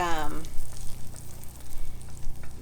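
Butter bubbling and sizzling in a pan on medium heat, a close, steady crackling fry with a brief voice at the very start.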